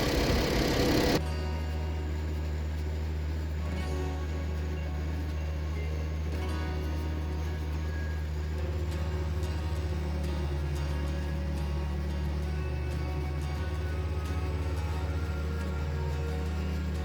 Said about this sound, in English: I'm gonna jump with the tractor here and get these bales baled up.